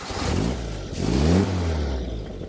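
A 1950s Morgan Plus Four with side-exit exhaust cranks and fires up, the engine catching and briefly revving up before settling into a rough, loud, close idle.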